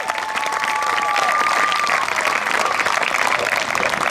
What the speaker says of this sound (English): round of applause to the umpires